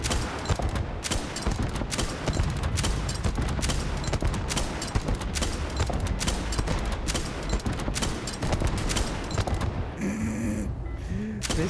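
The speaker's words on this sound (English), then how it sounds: "Grenade launcher." Grenade launcher in Starfield's Shattered Space expansion firing in a dark area, a dense, sustained volley of loud shots and blasts, ending in quieter electronic tones, with a player talking.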